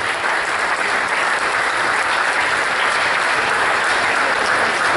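A loud, dense wash of applause from an audience at a Socialist Party presentation of municipal assembly candidates in Entroncamento, continuous and even, with no voices over it.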